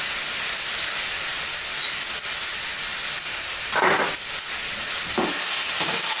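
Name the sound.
pineapple sizzling while stirred in an electric cooker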